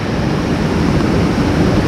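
Heavy spring-runoff torrent at a tall South Carolina waterfall, a steady loud roar of rushing water with no breaks, close and dense, with no voices.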